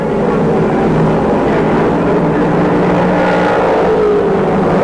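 1968 NASCAR Grand Touring cars, a Mustang and a Camaro, roar through a race into a turn, a loud continuous engine drone with shifting pitch as the cars pass, heard alone without talk.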